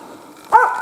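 A hunting dog gives a single sharp bark at a marten, fairly close, after a short stretch of near silence.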